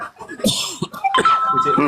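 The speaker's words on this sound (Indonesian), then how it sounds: "Pura-pura batuk dia kan." A person gives a fake cough: a couple of short, rough, breathy bursts mixed in with nearby talking voices.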